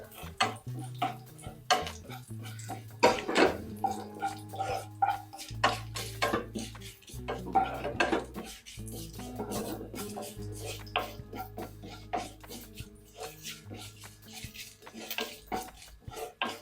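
Coriander leaves roasting in a pan on a gas stove, with soft scraping, stirring and clinking of a utensil against the pan in an uneven rhythm, close and fairly quiet.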